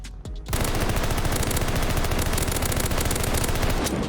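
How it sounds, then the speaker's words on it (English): Sustained rapid automatic gunfire in Call of Duty Vanguard, fired through a bed beam into a wall, starting after a brief quiet moment and continuing loud and relentless to the end. "you can wallbang the beam of this bed, and it'll go for the wall"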